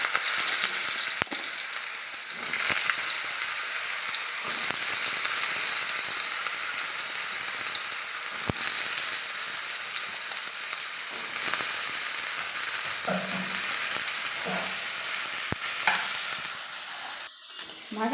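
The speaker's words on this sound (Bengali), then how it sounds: "এবার আলুগুলোকে আমি তেলের উপরে দিয়ে দেবো।" Potato pieces fry in hot oil for a Bengali spinach and shrimp dish, giving a continuous bright sizzle with occasional stirring scrapes and clinks, close and steady.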